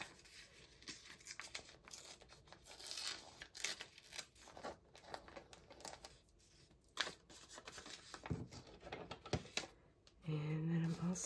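A magazine page is torn for a collage, with close, crackly ripping and paper rustling in uneven bursts, and a brief hum near the end.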